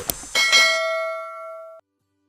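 Notification bell chime in a subscribe prompt, two quick bright metallic strikes ringing out in a clear sustained tone that fades over about a second and a half, loud and alone before silence.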